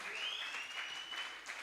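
Audience applause at a church ministry event welcoming a new Air Force Ministry president: steady, dense clapping throughout, fairly close and full, with a voice heard faintly in the mix.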